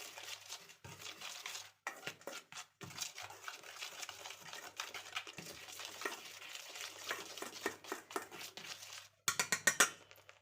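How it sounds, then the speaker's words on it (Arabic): Flour, starch, salt and sugar stirred together in a bowl for homemade kunafa; soft, close scraping and swishing strokes in an irregular rhythm, quiet, with brief pauses and a few sharper clinks near the end. "هقلبهم كده مع بعض"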